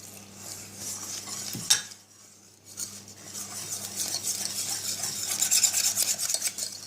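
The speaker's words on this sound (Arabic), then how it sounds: "نخلطو مليح باش ما يديرولناش يتلموه" Milk being stirred into a quiche mixture in a pot, giving a steady scraping and swishing of a utensil against metal, with one sharp knock near the start and the stirring growing busier toward the end.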